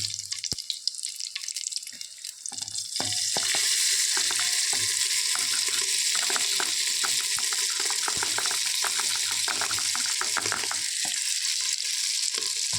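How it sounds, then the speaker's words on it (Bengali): Loud, dense sizzling of frying in ghee that swells after a quiet start, with occasional stirring scrapes and clinks. "এখানে ঘি দিয়েছি, এগুলো ভেজে নিচ্ছি"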